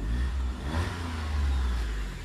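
A used car's engine revving in a steady, sustained rumble, loud and close, with a deep low drone holding throughout and no talk over it.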